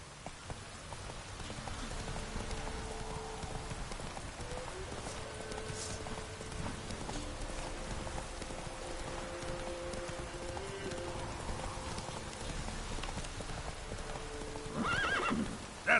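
Roach the horse galloping in The Witcher 3 video game, steady rhythmic hoofbeats over a constant rain-like hiss, with a whinny near the end.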